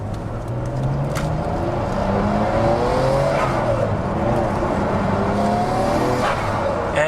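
A Nissan Skyline GTR R34 engine revving and accelerating as a loud, continuous rising roar with several gear-change steps. A faint voice comes through at times.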